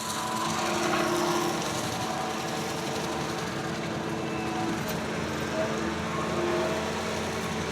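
Cat 265 compact track loader running a brush hog, mowing around trees: a steady, continuous engine and cutter drone with a gritty, rasping texture, moderately loud and unbroken.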